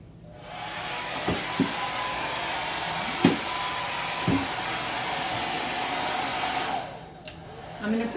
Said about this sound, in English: I think I'm going to go ahead and run the dryer across it.